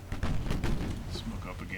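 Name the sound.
naval gunfire in Ultimate Admiral Dreadnoughts video game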